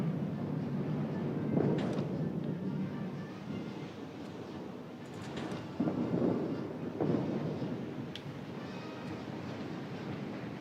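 Low rumbling thunder rolls through a naval battle game, swelling in a few broad booming surges over a steady low background roar, with no one talking.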